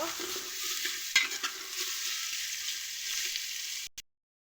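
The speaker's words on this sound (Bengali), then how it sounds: "পরিমাণ মতো পেঁয়াজ ভেজে নেব" Onions frying in a cooking pot produce a soft, steady sizzle broken by a couple of utensil knocks, then a final clunk just before the sound cuts to silence; no one speaks.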